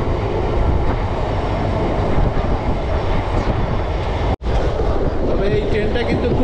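A local train from Sealdah towards Tarapith runs along the line, a loud continuous rumble and rattle of the carriage from inside with a brief sharp dropout partway through.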